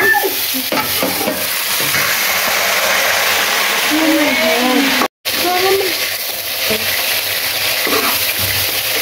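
Homemade potato chips sizzle and crackle loudly in a frying pan, a dense continuous hiss with occasional stirring, while people talk over it. The sound cuts out briefly partway through.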